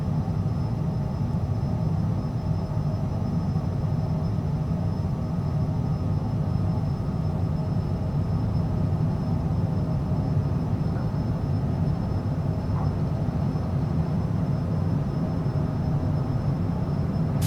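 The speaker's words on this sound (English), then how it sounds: "let's go ahead and take off the parking brake and see if we can get this thing up in the air here" A small Cessna-type propeller plane's engine drones steadily at full power during takeoff in Microsoft Flight Simulator 2024 near Temuco, Chile, a continuous low rumble with a thin high whine and no break.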